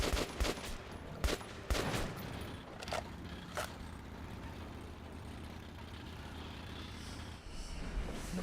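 Gunfire in the video game Metro: Last Light Redux: a handful of sharp, separate shots in the opening two seconds, then a few more spaced reports before a long stretch of low rumbling background.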